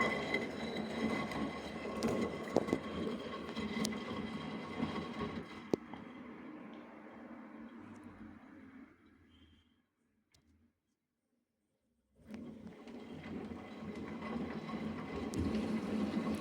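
A Vestel washing machine runs through its wash, rinse and spin cycle with a steady, loud mechanical churning rumble. It cuts out into near silence for a couple of seconds, then starts again just as strongly.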